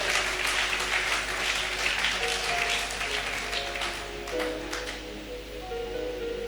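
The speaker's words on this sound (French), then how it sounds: "Acclame très fort Jésus de Nazareth." An audience claps loudly and steadily at a church gathering, a dense wash of applause that fades gradually toward the end.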